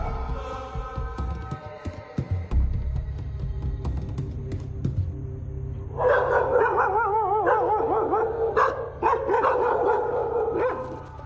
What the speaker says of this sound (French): Deux chiens en profitent pour avoir leur part du butin.